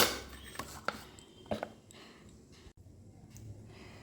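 Poppy seeds and four green chillies are ground into a paste with water, giving soft, faint rubbing and rasping strokes, a few sharper scrapes early on, then quieter grinding.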